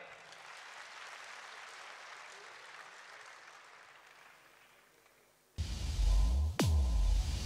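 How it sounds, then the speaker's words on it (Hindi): Audience applause at a World Environment Day 2021 event hosted by Pakistan, a steady wash of clapping for several seconds before louder music with a sweeping tone cuts in. "तालियां।"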